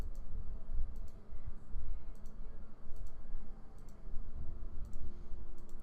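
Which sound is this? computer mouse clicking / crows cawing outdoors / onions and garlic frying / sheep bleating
computer mouse clicking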